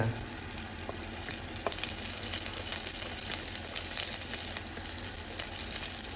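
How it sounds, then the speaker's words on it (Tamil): Ginger and curry leaves sauté in hot ghee for kodo millet pongal, a steady close crackling sizzle with occasional stirring scrapes, continuous and fairly loud with no talking. "கருவேப்பிலை சேர்த்துட்டு எல்லாத்தையும் நல்லா அந்த நெய்யிலே வதக்கி விடுங்க."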